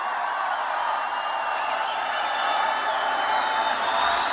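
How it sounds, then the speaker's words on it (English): Broad, sustained applause from a large rally crowd in Reno, Nevada, cheering for law enforcement: a dense, even wash of clapping and crowd noise that swells slightly toward the end. "Let's give a round of applause for our law enforcement."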